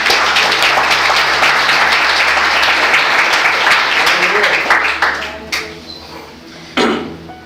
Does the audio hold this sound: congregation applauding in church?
yes